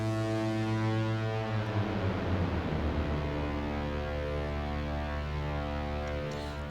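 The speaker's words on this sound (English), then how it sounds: "it has a huge gliding glissando kind of thing" Exemper Tyrannis, a u-He Diva FX patch, sweeps through a huge slow gliding glissando of layered harmonic tones, steady and fairly quiet, with the pitch bending downward across several seconds before settling into a sustained drone.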